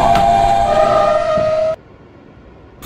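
An R160B Siemens subway car in the OpenBVE simulator whines loudly with a rising motor tone and rumble, then cuts off abruptly to a quiet hum before noise returns at the very end.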